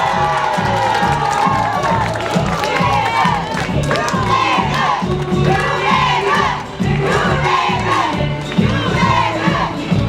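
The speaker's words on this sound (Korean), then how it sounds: "경례 박수 부탁드립니다" At a political party rally in Daejeon, a large outdoor crowd cheers, shouts and chants in unison, a loud, continuous roar with rhythmic swells and only scattered clapping.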